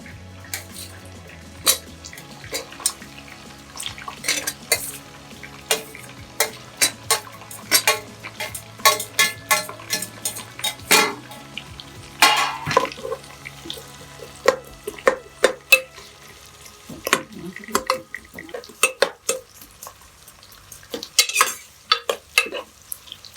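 Onions frying in a home kitchen pan, with irregular scraping and clinking of a utensil stirring against the metal over a soft background sizzle, no talking.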